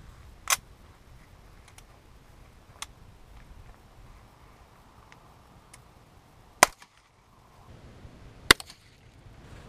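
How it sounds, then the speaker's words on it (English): .22 Long Rifle rounds fired from an AR-15 with a CMMG conversion bolt: three sharp, isolated cracks spaced seconds apart, with quieter ticks between them over a low background rumble. "First things first is going to be the 22 long rifle, and I'm going to be shooting that using the CMMG conversion bolt out of my AR-15"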